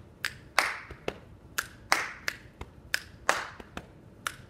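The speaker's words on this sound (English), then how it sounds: "if you take away the spoken part and you just do the beat with your body" Body percussion beat of chest booms, finger snaps and hand claps played solo in a rhythmic repeating pattern, each hit crisp and close with short gaps between strikes and no voice.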